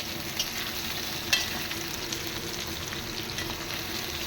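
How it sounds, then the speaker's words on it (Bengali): Steady sizzle of onions frying in oil throughout, a constant crackling hiss with a couple of faint clinks, no voices. "পাঁচ মিনিটের মতো পেঁয়াজটা ভাজা করে নেব"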